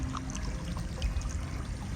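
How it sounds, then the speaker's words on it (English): Water rushes steadily over river rapids at the Peace River, a soft continuous flowing wash heard from a short distance with no talking. "Here are the rapids."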